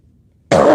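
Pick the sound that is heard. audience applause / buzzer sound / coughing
coughing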